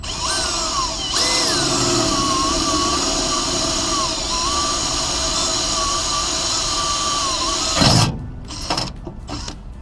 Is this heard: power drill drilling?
yes